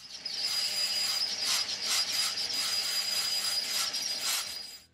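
A metal lathe turns down the outside diameter of a tailstock die holder part and drills it to size, giving a continuous hissing, scraping cut with a faint steady whine, close by and alone.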